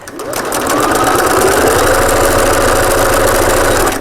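A domestic sewing machine runs steadily while stitching a half-inch seam allowance on fabric for a double cup holder, loud and close, with a continuous rapid mechanical whir and no talking.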